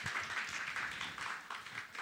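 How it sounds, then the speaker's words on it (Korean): Church congregation applauding to welcome parents at a special parents-invitation worship service, a steady continuous patter of many hands at moderate distance. "우리 많은 부모님들 이렇게 참석해 주셨는데 우리 환영의 박수 보낼까요?"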